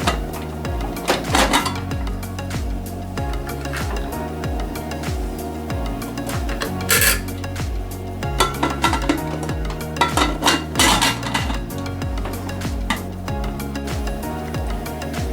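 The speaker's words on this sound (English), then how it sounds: "Now let's put the cake pan into the pressure cooker." A metal cake pan of brownie batter is set down into a preheated pressure cooker, giving a run of clanks and knocks of metal on metal close by, over a steady hiss and sizzle, with no talk.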